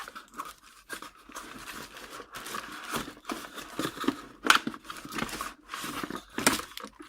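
A K65 keyboard is tugged free of its cardboard box, its wire caught inside. The packaging answers with close, intermittent bursts of scraping, crinkling and rustling, separated by short pauses.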